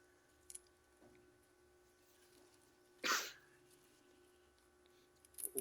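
A single sharp cough rings out clearly after a few quiet seconds, with faint clicks and a soft rustle around it and no talking.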